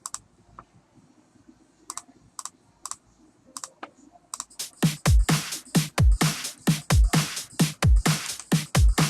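A basic preset beat pattern starts after a few sparse clicks, kicking in around the midpoint as a loud, steady drum loop with punchy hits repeating in an even rhythm.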